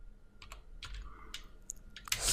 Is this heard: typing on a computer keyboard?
yes